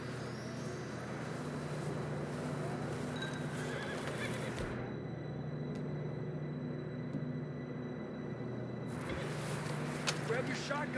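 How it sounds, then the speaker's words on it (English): Horses whinnying in the Red Dead Redemption 2 video game, with neighs and soft movement heard faintly beneath steady spoken dialogue and a low ambient hum. "I don't think we can go much further on the horses."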